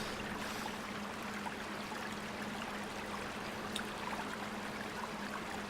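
Water in the off-road truck game Spintires Mudrunner: a steady, broadband rush and trickle of flowing stream water with a faint low hum underneath, continuous and even throughout, with no talk.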